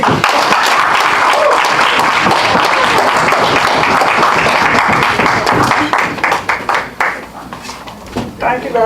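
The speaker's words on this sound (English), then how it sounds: "Join me as I give her a round of applause." A Toastmasters poetry meeting audience breaks into loud, dense applause that holds steady for several seconds, then thins into scattered claps and fades out as a voice begins speaking.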